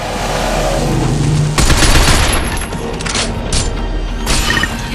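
Video game gunfire from Binary Domain, a loud, dense burst of rapid shots that sets in sharply after a low rumble and continues in uneven volleys through the rest of the clip.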